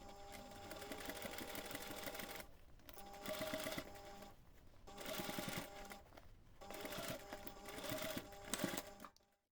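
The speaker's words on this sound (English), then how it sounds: "So next you can take this to the machine and baste the flap" A sewing machine bastes a fabric flap onto the back panel of a reindeer pouch, whirring in four quick bursts of rapid stitching with short pauses between them, close and fairly loud.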